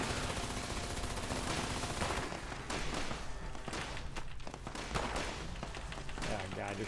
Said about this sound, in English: They're shooting him in the hallway.